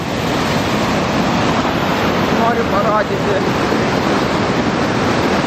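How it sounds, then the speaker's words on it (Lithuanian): Loud, steady roar of rushing water from a waterfall swollen by spring flood fills the whole clip, with a person briefly speaking over it. "kaip išsiveržė krioklys, pavasarinis potvynis"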